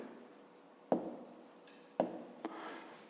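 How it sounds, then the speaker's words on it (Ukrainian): Pen writing on paper during a maths lesson, quiet and close, with a few short scratchy strokes and two sharper taps about a second apart, with no talking. "Давайте запишемо сума цифр"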